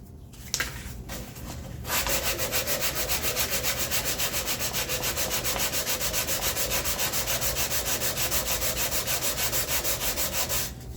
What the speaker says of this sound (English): I'm going to take my sandpaper and we're going to clean up those edges that we left before.